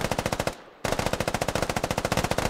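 Sustained machine gun suppression fire in a military video game, a fast, loud, even burst of shots with a short pause before the firing resumes at the same steady rate, no voices.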